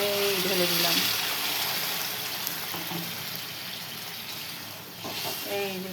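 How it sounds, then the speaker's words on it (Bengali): Hot water pours into a pan of cooking methi and potato curry, a loud continuous rush and hiss of liquid hitting the hot pan, with faint tonal clatter at the start and end. "এই যে গরম জল ঢেলে দিলাম।"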